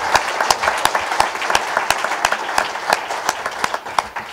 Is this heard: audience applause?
yes